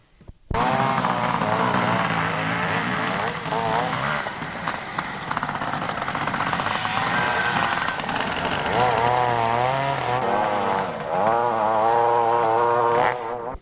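Kawasaki sidecar motorcycles race around a mountain-top enduro course, engines snarling and revving loudly and continuously with rising and falling pitch as they pass close by, while a commentator talks over the noise.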